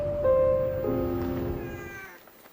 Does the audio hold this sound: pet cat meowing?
yes